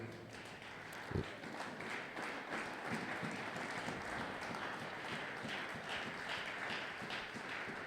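Church congregation at a Sunday worship service of praise and thanksgiving applauding together, a steady dense wash of claps sustained evenly throughout with no talk over it.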